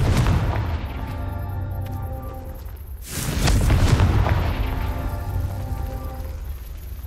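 A Confringo spell blast in the Hogwarts Legacy video game, a loud booming explosion bursting out around three seconds in and rumbling on over a low sustained game background.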